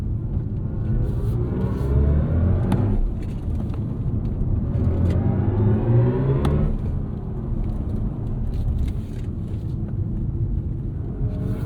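A BMW X4 M accelerates hard away from the line on a performance-center track, the engine note rising through repeated sweeps as it upshifts, loud and steady with a low rumble throughout and no talking.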